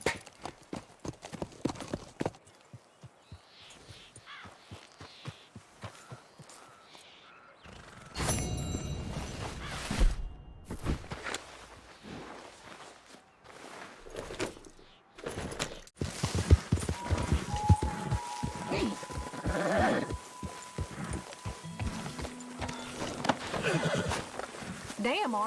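Rhythmic horse hoofbeats clop along in Red Dead Redemption 2, then the horse whinnies loudly; people talk intermittently over the trotting and ambient noise.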